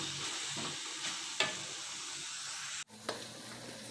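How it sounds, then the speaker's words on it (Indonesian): Potatoes for sambal goreng kentang being stir-fried in a large wok, a steady close sizzle with scraping stirs and a sharp clank partway through, no talking. "ini kita tumis terus ya"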